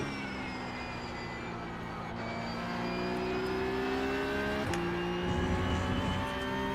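A Porsche Cup race car in the iRacing sim holds a steady, droning engine note with layered harmonics, rising slightly in pitch, then a brief shift-like break near the middle before the drone resumes under continuous road and tyre noise.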